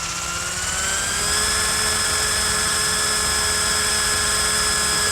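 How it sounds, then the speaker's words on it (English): Simulated RC helicopter in the RealFlight 5.5 flight simulator, its rotor blades spinning up with a steady, rising whine and layered engine drone that holds at full speed, close and continuous with no talk. "Let the rotor blades spin up."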